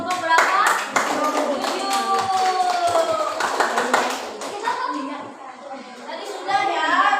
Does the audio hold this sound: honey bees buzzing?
no